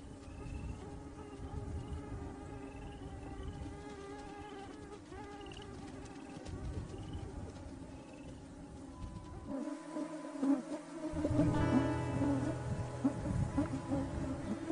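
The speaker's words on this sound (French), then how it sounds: "Les moustiques sont omniprésents." Swarms of mosquitoes and other insects whining and buzzing in the wild around foxes, a dense layered drone with overlapping tones that holds steady, then swells louder and closer near the end.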